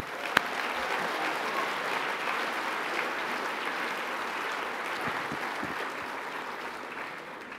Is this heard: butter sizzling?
no